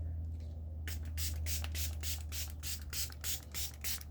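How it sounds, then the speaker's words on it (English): Setting spray misted from a pump bottle during a makeup routine: about ten quick, evenly spaced hissing bursts, close and fairly loud, over a steady low hum. "Setting spray."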